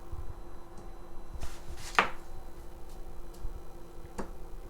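Onions sliced thinly with a knife on a cutting board for burgers, giving a few sparse, close knife taps with one sharper cut near the middle, faint and without talk.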